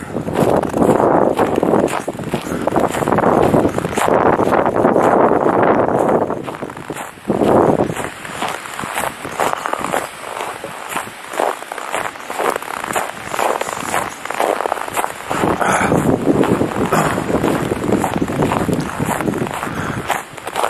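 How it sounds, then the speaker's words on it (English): Gusty wind blowing outdoors across a yard beside a long driveway, a loud, steady broadband rush that buffets the microphone, with occasional crunching steps and no voices. "We'll go out where the wind's blowing."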